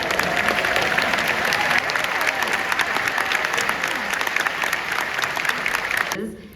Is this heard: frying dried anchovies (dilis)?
no